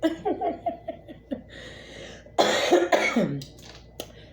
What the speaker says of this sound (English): That's the cannabis cough.